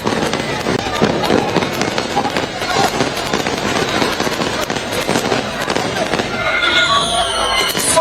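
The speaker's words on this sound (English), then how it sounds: "Fireworks to symbolize this semi-final." Fireworks crackle and pop in rapid, dense bursts at a beach soccer stadium during a semi-final, loud and continuous, with a crowd and commentary voices mixed in underneath.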